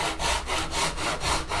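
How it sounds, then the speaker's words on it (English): A hand saw cuts through a piece of wood held in a mitre box, a steady back-and-forth rasp of about six even strokes, close and fairly loud. "I'm quite relaxed in my grip of the saw, so I'm allowing the mitre box to guide where the saw's cutting."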